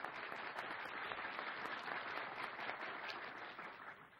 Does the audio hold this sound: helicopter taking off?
no